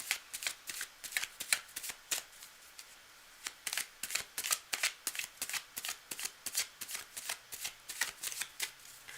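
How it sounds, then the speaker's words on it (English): Rapid rhythmic riffling of a deck of cards being shuffled repeatedly, crisp and close, with brief pauses between bursts. "I'm just going to shuffle up the deck here."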